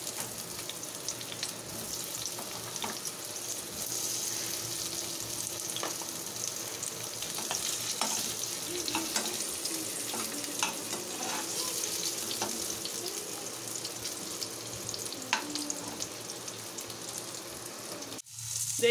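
A steady, hissing sizzle of boiled, chopped potatoes frying in hot oil until crisp continues throughout, with occasional crackles and pops and faint clinks near the end.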